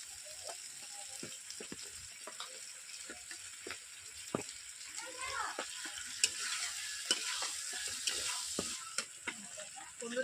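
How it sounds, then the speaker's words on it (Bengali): Homestyle country chicken curry sautés in oil in a pot, with near, moderate crackling and spitting oil, scattered sharp splatter pops and scraping stirring over a continuous soft sizzle, without speech. "চিকেন থেকে তেল ছিটাচ্ছে"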